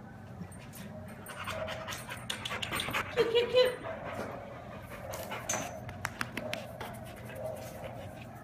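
A roughly 50-pound female adoption dog panting rapidly up close with soft whimpers and some scratching, while a person speaks over her partway through.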